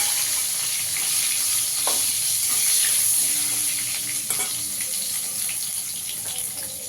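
Tomatoes frying in a pan for a potato, eggplant and parshe fish curry, giving a steady close sizzle with a faint watery hiss and a few soft utensil clinks throughout.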